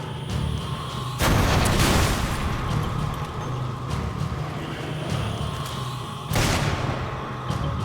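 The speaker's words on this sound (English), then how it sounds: "Rocket launcher!" Rocket launcher fire and an explosion in Resident Evil 5: a loud broadband blast at about one second, a sustained rumbling roar behind it, then a second heavy blast near the end.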